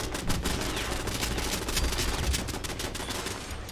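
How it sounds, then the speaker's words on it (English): Automated turrets firing in the video game Fallout 76, a dense continuous rattle of rapid gunfire with overlapping shots and a steady roar, loud and unbroken throughout. "I guess while my turrets are doing the work"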